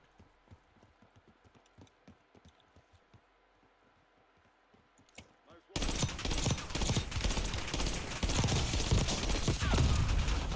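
Ames 85 burst-fire rifle in a first-person shooter game: quiet scattered taps and shots at first, then a sudden loud stretch of rapid gunfire and chaotic combat noise that continues to the end.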